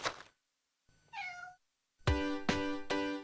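A pet cat meows several times, first a soft rising-falling mew, then three loud, close, insistent meows in quick succession.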